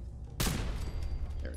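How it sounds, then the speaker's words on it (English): Automated turret opening fire in Fallout 4, one sudden loud burst that trails into sustained rattling gunfire over low game rumble. "Hear that turret, just don't see it."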